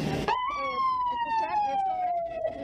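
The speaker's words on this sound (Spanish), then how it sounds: "Las ambulancias continúan realizando su recorrido en búsqueda de trabajadores" An ambulance siren wails after a brief burst of noise, amid tear gas and detonations during a worker evacuation, its tone sliding slowly downward as it sounds steadily and fairly close.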